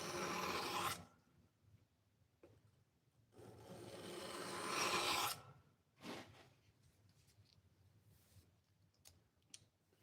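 Hand sanding along a workpiece edge with 400 grit sandpaper: two long, steady rasping strokes, close and fairly loud, then a brief scrape and quiet.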